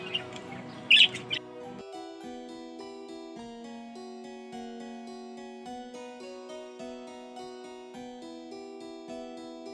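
A brief burst of budgerigar chirps and squawks opens, then steady layered music with sustained tones carries on to the end.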